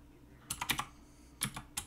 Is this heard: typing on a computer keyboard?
yes